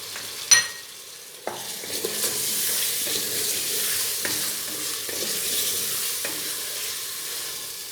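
Chopped green chillies drop into a hot pot with ginger-garlic paste for mutton biryani, bringing a sharp splash and then a steady, close sizzle of frying, broken by a few clinks of stirring.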